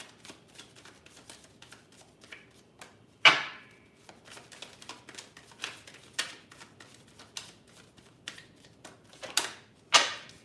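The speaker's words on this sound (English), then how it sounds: "I'm gonna pull 3 more cards." Tarot cards being pulled from a deck: a steady run of light papery flicks and taps, with a couple of sharper slaps standing out, close and fairly quiet with no talk.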